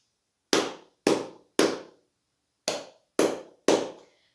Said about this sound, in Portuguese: Então, a gente tem a palma conchinha.